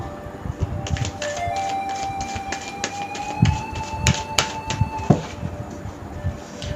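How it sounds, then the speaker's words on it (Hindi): Tarot cards are shuffled by hand, giving a run of crisp, irregular clicks and flicks that grow busier toward the end over a faint, steady tonal background. "जब मैं कार्ड्स को शफल करूँ तो आप इसके शफल पे फोकस कीजिएगा।"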